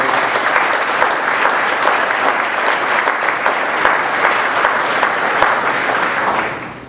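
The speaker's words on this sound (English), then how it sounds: "We have a round of applause." An audience at a high school hall of fame induction ceremony gives loud, sustained applause that fills the room, then fades toward the end.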